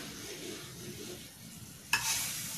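Ghee bubbles and sizzles softly in a pan while rava kesari cooks. A quiet, steady fry carries on throughout, and near the end a sharper, louder hiss bursts in, as if something has just been added.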